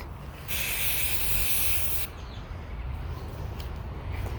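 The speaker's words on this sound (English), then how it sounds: "Once you get your first initial coat on, then you want to go back and do a second coat." Spray paint can laying a coat of chalk white on a Dollar Tree vase and sconce, one steady hissing burst of about a second and a half, close and fairly loud, then quieter rustling afterward.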